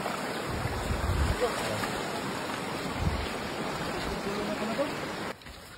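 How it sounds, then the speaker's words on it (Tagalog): Steady broadband rushing of a fast-flowing river fills the scene, continuous and close, with faint low thumps and a brief drop near the end. "medyo malakas po ang agos ng ilog"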